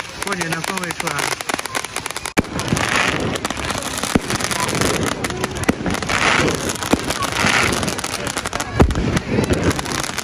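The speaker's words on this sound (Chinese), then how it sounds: "这个烟花好看" Fireworks bursting outdoors during New Year celebrations on Hailing Island, Guangdong, with continuous crackling and popping and occasional louder bangs amid a noisy crowd, while people talk excitedly nearby.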